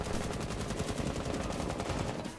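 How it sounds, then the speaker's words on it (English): Rapid, sustained automatic gunfire in Rainbow Six Siege, a dense stream of loud shots that rattles on without pause for a couple of seconds. "Bro, I shot him so many times."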